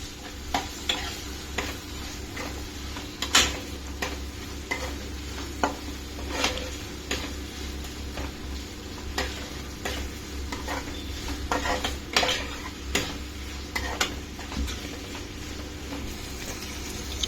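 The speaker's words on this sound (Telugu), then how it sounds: "ఫ్రెష్గా నూరుకున్న అల్లం వెల్లుల్లి పేస్ట్ ఒకసారి మిక్స్ చేసుకుందాం." Ginger garlic paste stirred in a pan for a mushroom cashew curry, with repeated scraping strokes of a spoon against the metal over a steady low sizzle of frying, close by and with no talking.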